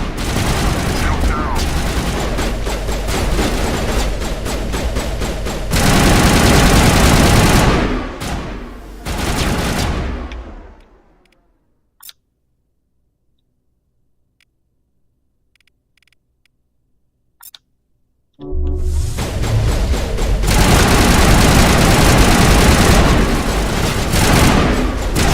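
Weapon fire in the Mass Effect video game comes as loud, dense bursts of rapid shots and booms, then cuts to near silence for several seconds before heavy firing resumes.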